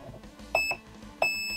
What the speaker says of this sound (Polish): I mamy 1 krótkie i 1 długie piknięcie, czyli to jest semi-auto